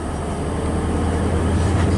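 A Great Western Railway HST departs Bath Spa for Bristol Temple Meads, a steady loud low rumble of engine and rolling wheels on the Great Western Main Line, continuous and close throughout.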